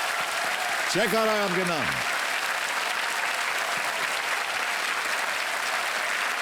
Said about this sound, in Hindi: तालियां बज जाएं जोरदार इनके लिए